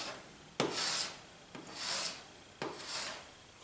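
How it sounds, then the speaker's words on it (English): Razor blade scraper dragged across a paint palette to clean it, making three separate rasping scrapes, each starting with a sharp catch, close and fairly quiet. "let me clean this palette because I'm going from cool to warm. And I'll get my razor blade scraper in here."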